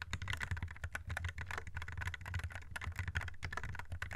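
Rapid, continuous typing on a fast computer keyboard, with dense, even keystroke clicks running throughout at a steady moderate level with no speech.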